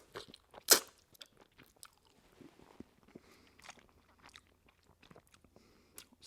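Samyang Buldak tomato pasta noodles are eaten up close, with soft wet chewing and slurping broken by one sharp crunchy bite near the start. The sounds are quiet and intermittent, and no one speaks.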